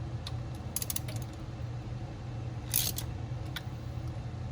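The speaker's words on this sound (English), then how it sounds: "I'm gonna torque this down." Torquing down the throttle position sensor screws on a Jeep Wrangler YJ gives a few close, sharp ratchet clicks and small metallic ticks over a low steady hum, with one brighter click cluster in the middle.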